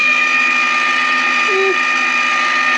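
An ice cream maker churns in a home kitchen with a steady, even mechanical hum, a constant motor drone that stays unbroken throughout with no speech.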